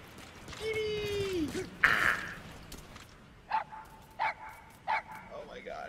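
A dog in Metal Gear Solid V gives a whine, then three evenly spaced short barks, moderately close, with a gasp and background game sounds.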